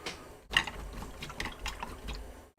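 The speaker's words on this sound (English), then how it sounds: "Now let me just rinse my brush." A paintbrush swishes and taps in a water jar while being rinsed, with close, uneven sloshing and clicking against the glass for a couple of seconds.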